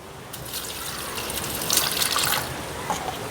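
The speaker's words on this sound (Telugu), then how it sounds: "కొంచెం వాటర్ పోసేసుకొని" Water is poured over a rose plant with black fungus, making a close, continuous trickling splash that briefly gushes louder midway.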